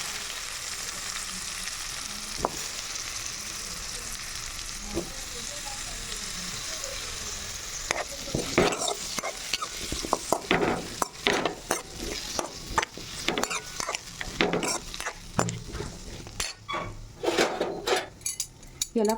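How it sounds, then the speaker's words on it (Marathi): Mango pieces frying in a pan, a steady sizzle that grows busier as a utensil stirs and scrapes against the metal in rapid, irregular clatters, close and fairly loud. "याला फ्राय करून घ्यायचं."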